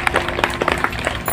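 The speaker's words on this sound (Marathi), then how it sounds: "टाळ्या वाजवून सर्वांनी स्वागत करावं।" An audience claps to welcome guests at the inauguration ceremony of a headquarters office. The clapping is brisk, scattered and fairly close, and it runs steadily through the short moment.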